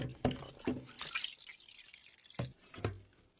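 Water drips and splashes from a rusty vintage cheese grater hopper during a final rinse, a few distinct wet plops spaced irregularly over a faint running-water wash, close and moderately quiet.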